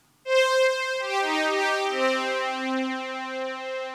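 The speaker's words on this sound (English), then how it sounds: "the JX3P sounds like this" A Roland JX3P synthesizer layer patch for a track swells in with a rich, bright chord-like tone, then sustains and slides down through lower notes, smooth and unaccompanied.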